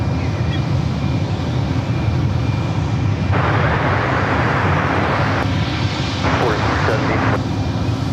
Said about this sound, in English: Looks like we got Porter, the E2, heading back to Toronto, now heading over to one right as well.